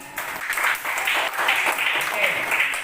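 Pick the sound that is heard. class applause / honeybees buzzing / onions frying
class applause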